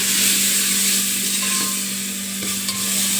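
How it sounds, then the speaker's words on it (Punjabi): Cumin seeds and turmeric sizzle steadily in hot oil in a home kitchen, a continuous close hiss with a faint stirring clatter and a low steady hum beneath, no talk. "ਤੇਲ ਤਲਕ ਗਿਆ ਹੁਣ ਆਪਾਂ ਇਹਦੇ ਵਿੱਚ ਜੀਰਾ ਪਾ ਦਾਂਗੇ ਜਿਹੜਾ ਭੁੱਜ ਜੇ ਥੋੜਾ ਜਿਹਾ"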